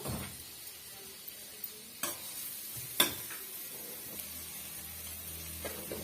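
Onions fry quietly in a pan while a utensil scrapes and stirs, with a few sharp clinks against the metal.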